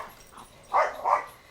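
Dogs barking indoors at a distance, a faint yip followed by two louder, muffled barks in quick succession, with no talk.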